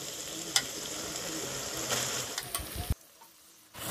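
Chicken pieces go into a pan of frying spice masala for a Bengali country-chicken curry, giving a broad, steady sizzle with a few clacks, then a sudden drop to near quiet before the hiss returns.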